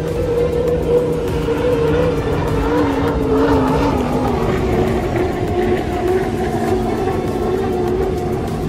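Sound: unlimited hydroplane race boats racing

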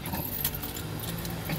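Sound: keys jangling

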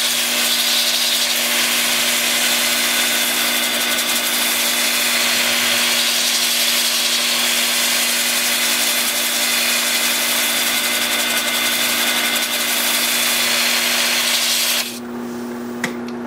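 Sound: wood lathe spinning while turning box elder wood

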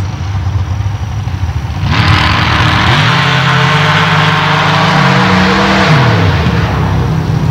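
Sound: modified dirt drag racing truck making a single pass

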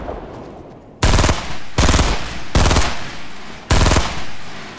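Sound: shotgun fire in the video game Fortnite

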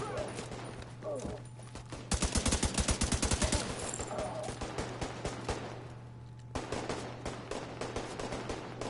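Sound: gunfire from video game The Division 2

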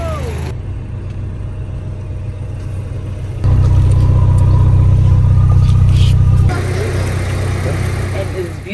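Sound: Porsche car engine running

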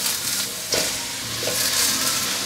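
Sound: stir-frying king oyster mushrooms and mixed mushrooms in a pan

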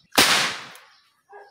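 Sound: nail gun firing

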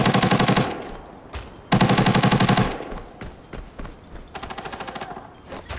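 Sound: gunfire in the video game Arena Breakout

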